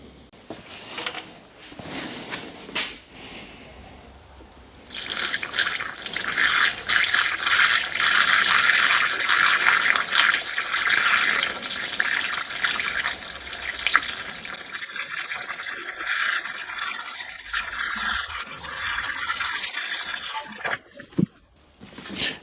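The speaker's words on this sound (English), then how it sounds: "I'm just filling this up till it's full, and then I'm going to move up to the reservoir." Coolant is poured into a new WRX engine in a garage, making a steady, rushing, gurgling liquid flow that starts after a quieter lead-in, runs loud for about sixteen seconds, then trails off.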